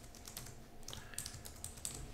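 A password is typed on a computer keyboard while adding a user on Debian 12 with Xfce, producing soft, quick key clicks in an irregular run.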